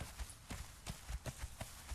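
A horse's hooves clip-clop at a steady trotting rhythm in the game Conan Exiles, each hoof strike a soft, muffled thud repeating about every quarter second.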